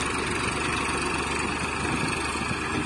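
A Farmtrac 60 tractor reverses a manure-loaded trolley up a ramp, its diesel engine droning at a steady, moderate level with no talk over it.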